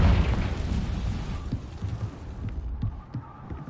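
A Confringo blasting spell bursts in Hogwarts Legacy, a loud deep boom at the start that rumbles away, followed by scattered softer thuds and pops.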